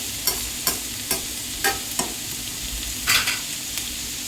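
Onions frying in a pan for a Telugu bendakayala pulusu (okra stew), a soft steady sizzle under a series of sharp, regularly spaced scraping stirs of the spatula, close and moderately quiet, with no voices.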